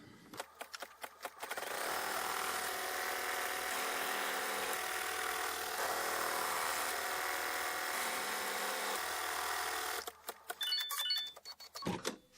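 Embroidery machine tacking down quilt batting in a hoop, a close steady buzzing hum of rapid stitching running for about eight seconds, framed by clicks and handling noises before and after, no speech.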